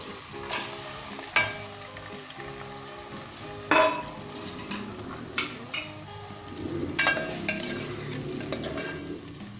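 Chicken frying in a pan with ginger garlic paste for Pakistani-style nihari: a continuous sizzle with sharp clinks and scrapes of a spoon stirring against the pot, close and fairly loud.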